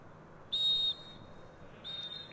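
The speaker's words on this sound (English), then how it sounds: "And there goes the final whistle." A referee blows the final whistle at an under-18 football match between Arsenal and Crystal Palace, one long sharp blast followed by a shorter, softer one over low crowd ambience.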